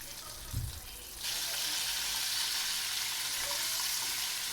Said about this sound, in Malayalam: ഫ്രൈ ചെയ്യുമ്പോൾ 2 സൈഡും മാറ്റിയും തിരിച്ചിട്ട് നമ്മൾ ഫ്രൈ ചെയ്തെടുക്കാം